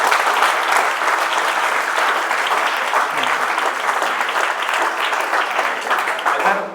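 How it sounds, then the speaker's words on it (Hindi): Loud, sustained applause from students at a campus interaction program, a thick continuous roar of many hands clapping at once that fades slightly near the end. "ताली बजाएं।"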